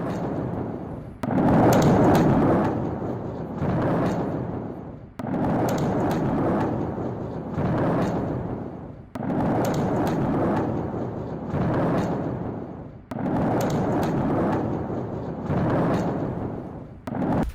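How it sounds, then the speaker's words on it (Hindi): A series of heavy, rumbling booms from missiles exploding in the sky over Iran rolls in one after another, each swelling and fading over a few seconds, with no talking. "ईरान के आसमान से मिसाइलों में विस्फोट से रोशन हुआ पूरा आसमान।"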